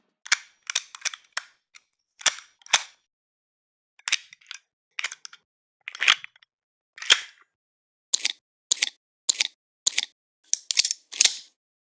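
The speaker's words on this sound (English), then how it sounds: "So these are a couple of the gun reloading sounds that I've been working on" Gun reloading sound effects made with a vice grip: a rapid series of sharp metallic clicks and clacks, close and crisp, in irregular bursts separated by silence.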